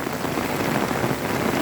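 Heavy rain falls steadily in a dense, even hiss of drops pattering on surfaces, continuous and fairly loud with no voices.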